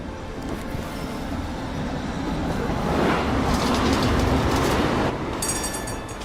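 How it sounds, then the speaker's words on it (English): A tram in the video game Syberia: The World Before rolls in with a steady rumble and clattering wheels that swell louder toward the middle, then a bright metallic squeal near the end, with no voices. "But here's our tram."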